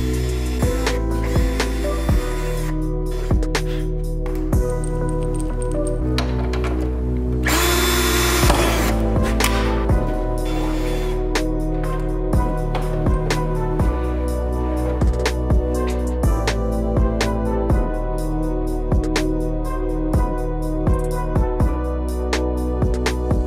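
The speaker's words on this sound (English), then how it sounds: "I'm gonna mark where the holes are and then I'm gonna drill them." A power drill whirs in repeated bursts, starting and stopping over and over as it bores holes in a Scion FR-S widebody bumper, loud and close, with clicks between runs.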